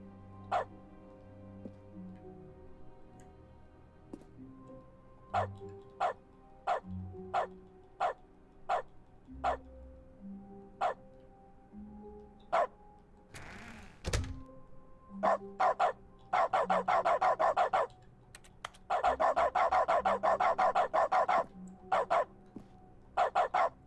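Dog barks in Dog Mode of The Stanley Parable: Ultra Deluxe, a string of evenly spaced single woofs followed by faster bursts of rapid barking, loud and clear over a soft steady game background.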